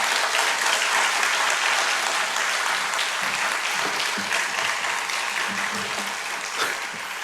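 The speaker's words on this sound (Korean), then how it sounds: "우리 큰 박수로 환영하도록 하겠습니다." A church congregation gives loud, sustained applause to welcome a guest professor to the pulpit, a dense, close wash of clapping that fades slightly over several seconds, with faint voices mixed in.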